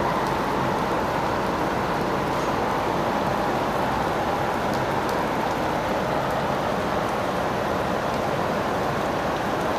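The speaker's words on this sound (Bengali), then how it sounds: "বৃষ্টির ভিডিও করতেছি।" Steady rain falling, a dense, even hiss of drops that holds at the same level without a break for about ten seconds, with no voices.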